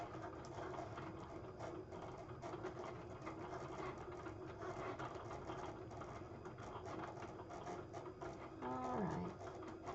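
A Cricut cutting machine cuts out paper with a quiet, steady mechanical whir and rattle, and a brief rising motor tone near the end.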